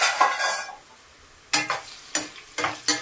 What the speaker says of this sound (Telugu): ఒకసారి కాకరకాయలు కూడా మళ్ళీ మనం కలుపుకుందాము